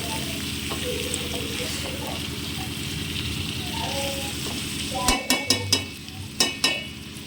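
Vegetable pieces fry and get stirred in a pan while tamarind juice is about to go in, giving a steady close sizzle with several sharp utensil scrapes and clinks near the end.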